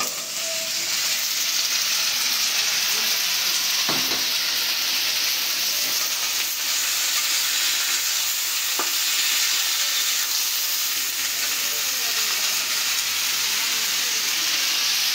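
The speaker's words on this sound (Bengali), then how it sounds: "পেঁয়াজ ভাজা হয়ে গেছে, এখন এই যে কাঁকরোল আর আলু" Teasel gourd and potato hiss and sizzle with onion in a hot pan in a village kitchen, a loud, continuous frying roar with a couple of faint stirring knocks throughout.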